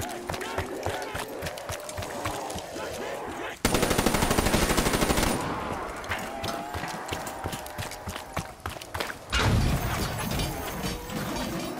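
Gunfire in the Black Ops 3 video game comes in rapid automatic bursts and single shots, loud and close, mixed with game effects and background action.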